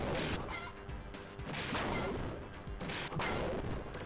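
The Robotic Chicken boss fight in Earthworm Jim, with repeated crashing impacts and squawking clucks over busy game music, several loud bursts spaced through the clip.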